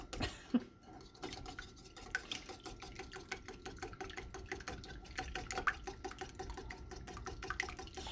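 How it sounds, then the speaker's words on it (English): A wire whisk beats quickly in a bowl while preparing homemade nuggets, a fast, steady run of light metallic ticks and taps, quiet and close, with no talking. "Now we're going to take that whisk because we're not going to use it again. And just whisk that on up, Shug."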